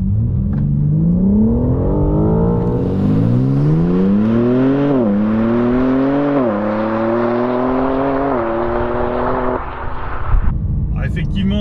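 A biturbo sports car accelerates hard, its engine revving loud and close. The rising whine climbs through several gear shifts, each marked by a brief drop in pitch, before the engine cuts off near the end.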